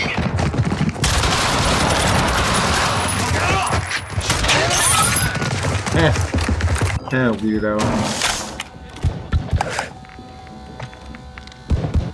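Call of Duty Modern Warfare 2 (2022) multiplayer gunfight: dense, rapid automatic gunfire rattles loudly for several seconds, then thins into scattered single shots and mechanical clicks, with game effects layered in.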